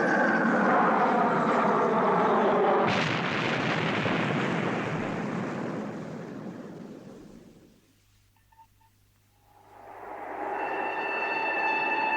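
A loud, roaring rush as an aircraft is struck by an explosion's blast wave and goes out of control, with a sharp jolt early on, then a fade to near silence before a whining drone returns.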